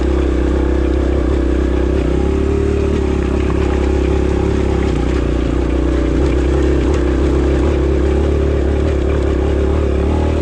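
A 2022 Kawasaki KLX140RF dirt bike crawling up a trail hill at low RPM gives a steady, close, continuous engine drone with slight rises in revs, and no talk over it.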